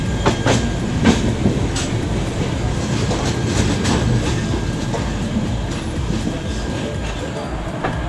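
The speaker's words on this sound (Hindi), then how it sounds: "हमारी मुलाकात होती है अमृतसर CSMT मुंबई के बीच चलने वाली एक्सप्रेस ट्रेन से" Loud, close rumble of an Amritsar–CSMT Mumbai express train moving through Ambala Cantt junction in Haryana, with steady clickety-clack of wheels over rail joints and repeated sharp clacks throughout.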